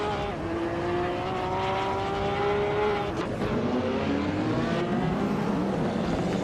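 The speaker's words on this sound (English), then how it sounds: "Indigo Pate is driving a 1993 Ford Mustang" Ford Mustang race car from 1993 driving in a race, its engine note steady and loud with pitch shifts as it changes speed, other race cars droning around it throughout.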